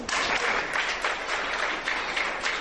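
A school debate audience at a televised programme applauding a speaker, with steady, moderately loud clapping that fills the whole stretch without talk.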